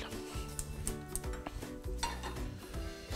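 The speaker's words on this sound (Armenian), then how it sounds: "եւ սկսենք սոխը խարգել" Chopped onion and garlic frying in a pan with a little olive oil and butter, giving a steady close sizzle with scraping stirs and occasional clinks of utensil on cookware, over a low tonal hum.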